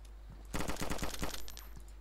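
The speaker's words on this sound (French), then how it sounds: "C'est toi qui tire la M4, hein?" Rapid burst of M4 rifle fire in the survival game DayZ, a dense string of sharp automatic shots lasting under a second after a quiet start, then fading into softer scattered reports.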